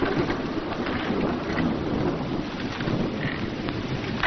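Steady rain and a low continuous rumble of thunder fill an old 1933 film scene, dense and loud throughout with no break and no voices.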